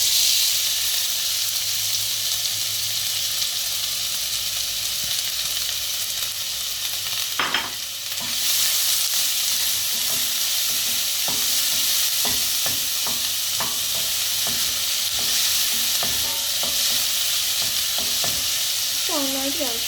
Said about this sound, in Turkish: Hemen ardından doğramış olduğum kuru soğanlarımı ilave ediyorum.